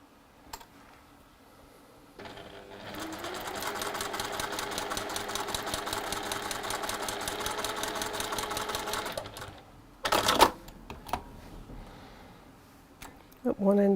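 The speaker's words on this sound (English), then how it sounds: "I'm going to sew 1/4 inch either side of that line." A sewing machine stitches quarter-inch seams on either side of a diagonal line, running steadily for about seven seconds with a fast, even mechanical whirr. Handling clicks come before it, and a short louder burst of stitching follows.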